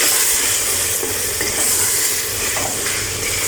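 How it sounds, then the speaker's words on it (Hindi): A spoon stirs turmeric and coriander powder into a hot cooking pan for an aloo gosht curry, with a continuous loud sizzle and soft scraping movements underneath. "अब इसको अच्छे से मिक्स कर लेंगे।"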